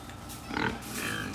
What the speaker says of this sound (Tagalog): ito yung mga alaga nilang baboy